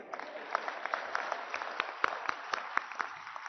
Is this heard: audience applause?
yes